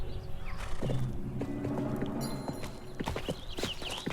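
Rhythmic clip-clop of horse hooves on hard ground in the video game 1428 Shadows over Silesia, steady and fairly close, with a horse whinnying and some background ambience.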